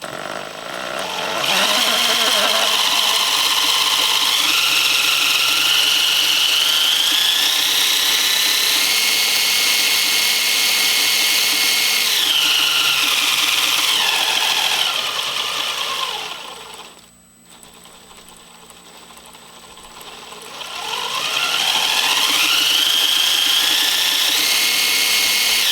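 An electric motor in an RC Humvee model whines loudly in high gear, revving up and down in long sweeps, briefly dropping to near quiet before spinning back up, with no talk.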